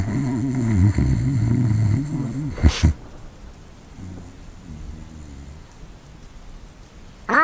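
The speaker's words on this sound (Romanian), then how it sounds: "am aici pus și ploaia" Rain pours steadily in the Roblox Brookhaven game, a constant hiss with low rumbling, louder and mixed with other game sounds at first, then quieter and more even.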